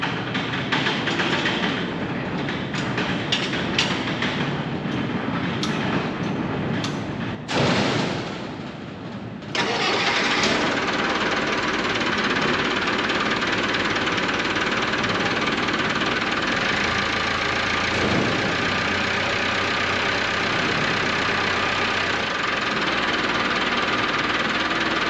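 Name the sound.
engine cranking up and running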